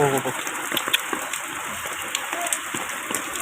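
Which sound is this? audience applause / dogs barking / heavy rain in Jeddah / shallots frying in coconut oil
heavy rain in Jeddah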